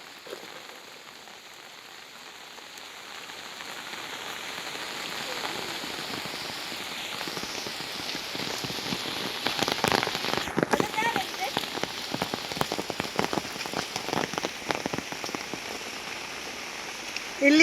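Heavy rain pours in the forest, a dense steady hiss of drops on leaves and ground that thickens and grows louder partway through, with scattered heavier splatters.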